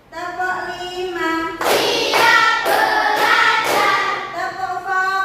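Schoolchildren in an Indonesian Islamic religious education class clap in unison to a counted pattern, a run of sharp group claps over loud chanting voices.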